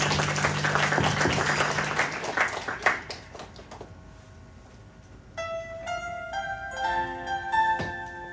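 Church congregation at a Sunday worship service breaking into applause, a loud, dense burst of clapping that fades after a few seconds as soft keyboard notes take over.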